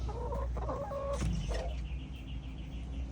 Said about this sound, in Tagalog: walong hens ito sila dito isang rooster